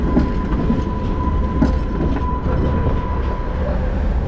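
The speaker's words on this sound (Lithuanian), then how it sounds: "pažiūrėkit, kokie važiuoja tramvajukai Rygoje" Trams rolling along a city street in Riga, a loud continuous rumble of wheels on rails with a steady hum, heard close up and without talk.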